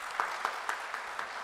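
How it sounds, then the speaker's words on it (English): A few people in a dental conference audience clap briefly, about five or six evenly spaced claps that sound faint and somewhat distant. "So big round of applause for her."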